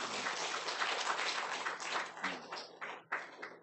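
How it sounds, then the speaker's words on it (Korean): A church congregation applauding in encouragement, dense clapping at a steady level that thins into scattered claps and fades near the end. "두 사람에게 큰 격려의 박수 한번 드리겠습니다."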